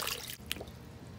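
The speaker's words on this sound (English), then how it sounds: "This Thomas can carry some water" Water drips from a Thomas toy train, giving one soft, brief drip in the middle of a quiet moment with no talking.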